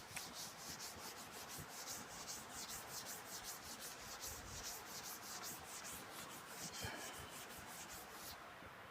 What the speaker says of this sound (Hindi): अब मैं क्वेश्चन को रब करता हूं।